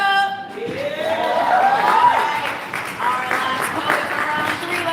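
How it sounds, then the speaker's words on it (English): A poetry slam crowd applauds and cheers at a festival in downtown Las Vegas, a continuous wash of clapping with a voice calling out over it. "Keep that round of applause going"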